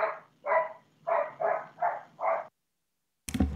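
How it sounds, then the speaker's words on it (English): A dog barks six times in a quick, fairly loud series, with no talk over it, followed by a short silence and then a brief burst of other noise. "I think the dog agrees with you as well, Peter, wherever it's coming from."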